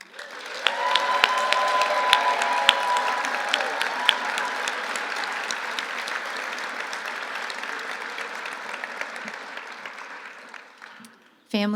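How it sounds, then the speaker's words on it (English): Sustained applause from a crowd honoring graduates at a physician assistant commencement, dense clapping rising quickly and holding strong before gradually thinning out near the end, then cut off abruptly. "And now one more round of applause for our graduates"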